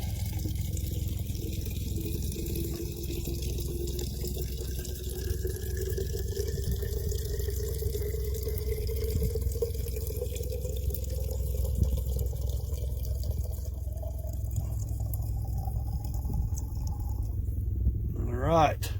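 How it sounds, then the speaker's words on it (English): Water pours steadily into a Nalgene bottle outdoors on an island, filling 32 ounces, with a continuous trickling stream whose pitch slowly rises as the bottle fills, ending in a brief clatter. "I'm going to fill up my Nalgene bottle here with 32 ounces of water."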